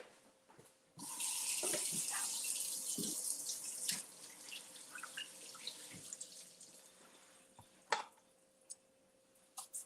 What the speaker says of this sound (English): Wash it and cut it in quarters.